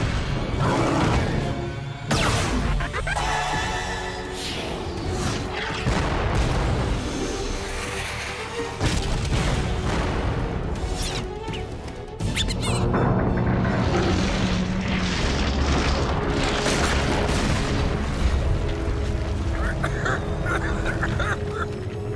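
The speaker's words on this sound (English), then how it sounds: "Heavy artillery coming in!" Cartoon heavy artillery pounds away in a battle scene, with repeated deep booms and crashing bursts piling up loudly over a busy score, while characters shout briefly.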